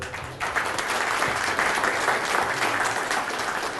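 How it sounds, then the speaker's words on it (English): An audience at a public forum on state pensions and debt gives a speaker a round of applause, a steady, close crowd clapping that swells in within half a second and continues evenly to the end. "If we could all have a round of applause for Mr. Steinberg"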